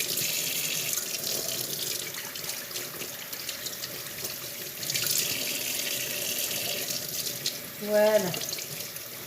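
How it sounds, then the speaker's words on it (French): Whiting fish rinsed under a running kitchen tap, a steady hiss of flowing water with splashing for several seconds, a short spoken word near the end. "On rince tout notre poisson."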